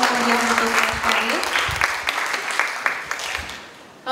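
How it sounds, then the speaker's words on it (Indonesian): An audience at an Indonesian academic presentation applauds, dense clapping that is loud at first and gradually thins and fades, with a brief murmur of voices and a faint tone near the start. "Tepuk tangan lagi untuk sekali."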